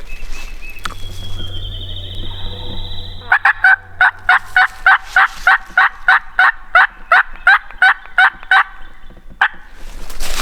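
A wild turkey gobbles in a rapid rattling burst of repeated notes, loud and close, after a drawn-out hen call and some rustling outdoors by a food plot.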